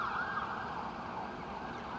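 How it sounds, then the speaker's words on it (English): Emergency vehicle sirens pass nearby on a street, a steady wailing tone heard faintly and continuously with some low road rumble underneath. "Wait for the sirens to go by here."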